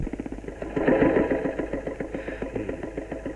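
A motorcycle engine idles close by with a steady, rhythmic putter, swelling briefly in loudness before settling back.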